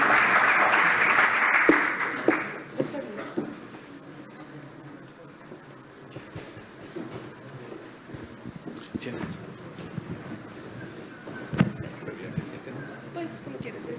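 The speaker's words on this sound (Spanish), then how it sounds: "Fuerte aplauso para el doctor Reinaldo Villalba" An audience at a panel event claps for the moderator in a burst of applause that lasts a couple of seconds and then dies down, followed by a voice talking close to the microphone.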